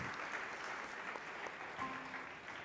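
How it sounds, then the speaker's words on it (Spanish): An audience applauds a speaker at an expert forum on decarbonising passenger road transport, with soft, steady clapping from a crowd that sounds faint and distant. "Con aplausos."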